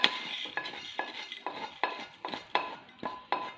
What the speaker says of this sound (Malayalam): ഉഴുന്ന് നന്നായിട്ട് മൂത്തു ഇത് നമുക്ക് ഈ പാത്രത്തിലേക്ക് ആക്കാം